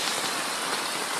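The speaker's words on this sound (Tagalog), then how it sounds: "Ang lakas na ng ulan." Dense, loud rain pours steadily, a continuous hiss of heavy drops hitting a surface up close.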